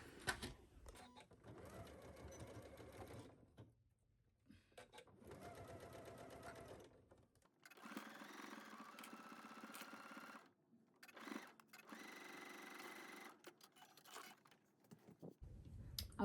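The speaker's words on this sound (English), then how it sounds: "let's take this to our sewing machine and stitch it at 5/8" Sewing machine stitching a 5/8-inch fabric seam on a shacket, running in several fast whirring bursts separated by short pauses, close and clear.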